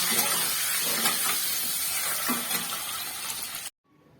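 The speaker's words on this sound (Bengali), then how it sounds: "দিয়ে ডিমগুলোকে আমি এবার ভালো করে ভেজে নেব।" Eggs frying in hot oil give a steady, loud sizzle and spatter with crackling pops, continuing evenly before cutting off abruptly into near silence.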